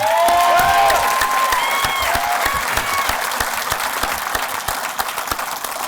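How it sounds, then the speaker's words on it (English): A large crowd at a graduation gala applauding steadily, with high whistles and cheers rising over the clapping at first, then settling into sustained, even applause. "Let's give them a round of applause"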